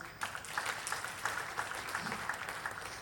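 An audience applauds at a film awards ceremony in Nigeria, a steady crackle of many hands clapping at a distance, fairly faint and continuous throughout.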